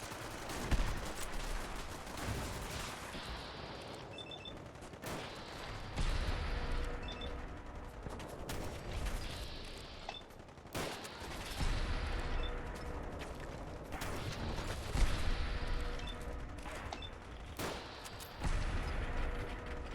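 Repeated gunshots and bursts of fire in Fallout 4, loud and close, spread across the whole stretch in irregular volleys with brief pauses and a few metallic weapon clicks, with a voice talking at moments.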